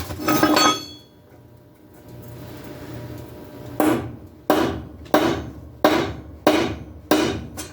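Hammer striking a cold chisel in a workshop, five sharp metallic impacts spaced roughly evenly near the end, each ringing briefly, after an earlier strike and a stretch of quiet.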